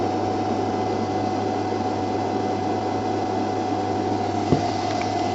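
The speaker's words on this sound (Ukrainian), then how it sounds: "Вентилятори продовжують працювати, хоч навантаження й немає." Cooling fans in a hybrid inverter setup with a 7.2 kWh LiFePO4 battery bank run with no load, giving a steady, even whir and hum that stays constant throughout, with one faint knock near the end.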